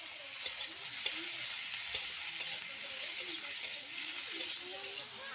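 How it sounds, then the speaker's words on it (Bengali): Bitter gourd slices sizzle steadily in hot oil, with occasional clinks of a spatula stirring the pan. "এবার উচ্ছে আর করলা ভাজছি।"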